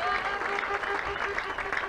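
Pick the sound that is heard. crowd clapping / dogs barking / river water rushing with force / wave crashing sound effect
crowd clapping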